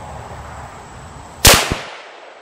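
A single sharp, loud rifle shot from a custom Remington 700 firing True Velocity .308 Win ammunition at a 100-yard range, a sudden crack with a brief echo against quiet outdoor background.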